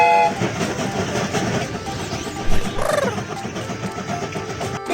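A cartoon train starts moving with rhythmic rolling clatter and a brief rising whistle-like tone partway through.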